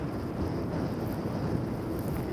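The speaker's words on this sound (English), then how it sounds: "get rid of that horrible wind" Steady roaring wind buffets the microphone while riding an electric mountain bike on a windy day along city streets, a constant low rumble with no speech.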